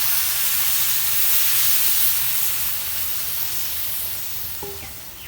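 Loud, fierce hissing and steaming erupt as water hits rice frying in a hot pan for beef biryani, the sizzle slowly fading over several seconds.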